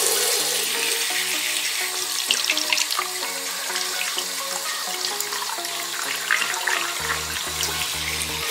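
Water pours steadily into a container, a continuous splashing trickle with faint clinks, while soft musical tones play underneath.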